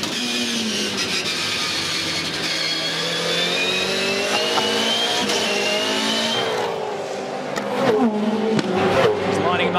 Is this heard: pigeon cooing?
no